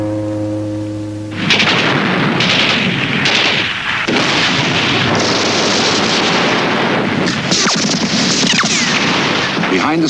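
Heavy Soviet artillery bombardment during the Battle of Berlin rumbles in a dense, loud barrage of booming blasts and thunderous detonations, one after another with no pause, and no voices.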